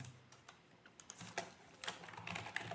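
Typing code on a computer keyboard during a Bootstrap web tutorial, a quiet irregular run of key clicks with small clusters and pauses, close and faint.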